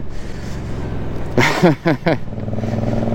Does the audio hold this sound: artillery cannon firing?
no